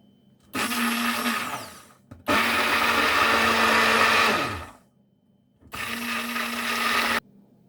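A blender runs loudly in three separate bursts, mixing lemon ice cream, a steady mechanical whir with short pauses of silence between them.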